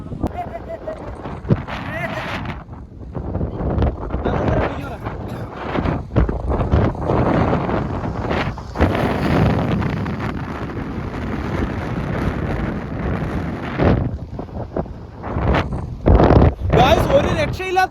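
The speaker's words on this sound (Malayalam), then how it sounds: "ഒരു രക്ഷയില്ലാത്ത കാറ്റ്, ഞങ്ങൾ വരെ പറന്നു പോകുന്നു" Strong wind buffets the microphone in gusty, roaring bursts on a road trip near Tenkasi and Papanasam, loud and continuous throughout, with voices talking over it.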